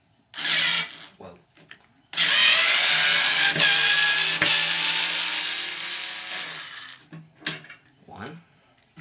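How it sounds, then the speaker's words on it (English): A Ryobi power screwdriver backs screws out of a Sargent door closer, its motor whirring in one long close, loud burst after a couple of shorter spurts, with brief speech around it. "Take it out with the Ryobi screwdriver."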